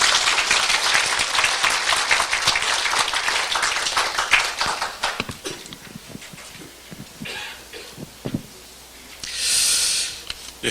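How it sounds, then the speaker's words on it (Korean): Audience applause welcoming the governor of Jeju to the stage at a Korean forum on local government exchange with North Korea, a dense burst of clapping that thins into scattered claps and then a brief final swell. "여러분 박수로 환영해 주시기 바랍니다."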